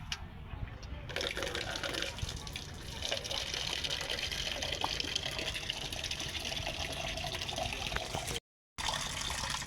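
Water gushes steadily into a mug, a continuous close pouring and filling sound that briefly drops out near the end.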